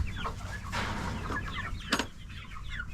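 A hen clucks in short, scattered bursts, close by, with a sharper squawk near the end and no talking.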